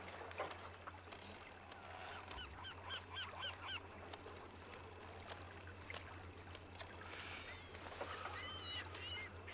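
Seagulls cry now and then in a role-play video game, as faint, scattered squawking calls over a low steady hum, with a brief voice at one point.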